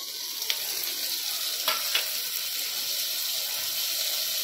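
Onions frying in a pan for a spicy mutton curry, giving a steady, fairly loud sizzle throughout with a few brief clinks or stirring taps and no talking.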